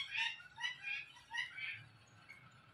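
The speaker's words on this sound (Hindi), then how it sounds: "पैरेट्स ने भी बहुत ज़्यादा शोर डाला हुआ है" Harsh, bursty bird squawks repeat in uneven calls, fairly close, over a low background rumble.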